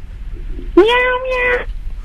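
A cat, heard over a radio phone call, gives one loud, drawn-out meow lasting nearly a second, rising at first and then holding steady before it stops abruptly. Faint background noise surrounds it.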